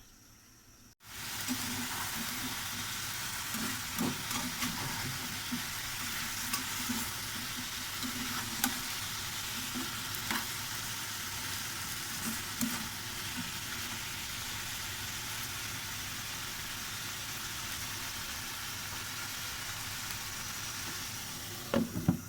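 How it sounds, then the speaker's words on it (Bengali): Food is sautéed in a pan, a constant, moderately quiet sizzle that starts after a brief silence and runs on for a long stretch with occasional stirring knocks. "একটু কষিয়ে নিচ্ছি।"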